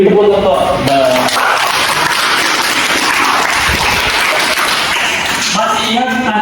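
A group applauds in a dense, sustained burst of clapping, with voices talking briefly at the start and again at the end.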